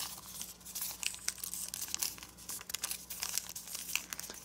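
Paper being creased and folded by hand for an origami dragon, with close crinkling and crisp rustles in irregular bursts and a faint steady hum underneath.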